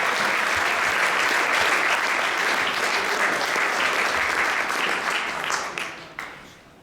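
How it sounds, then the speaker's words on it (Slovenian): Indoor audience applauding at an awards event for kayakers at a former city power station in Ljubljana, a dense, loud clapping that holds steady and then tapers off over the last second. "preden gremo k naslednjemu sklopu, zaploskamo"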